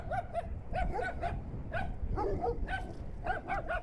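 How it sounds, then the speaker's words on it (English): Dog barking and yipping in short repeated bursts on a Christmas ebike outing, fairly close against steady outdoor background noise, with no talk. "The dog's right there."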